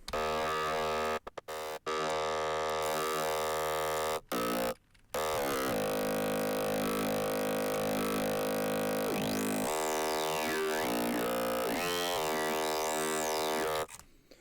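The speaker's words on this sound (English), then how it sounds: "now let's slap on some more distortion" A dense, buzzing Snails-style synth bass made in Reason, drenched in heavy distortion, sustained and loud with a few brief cutouts and sweeping filtered tones rising and falling over it.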